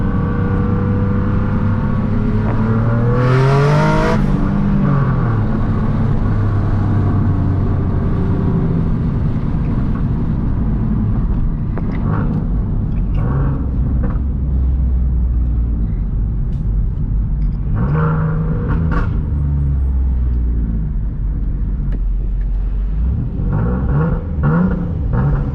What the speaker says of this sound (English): This car sounds so good, man.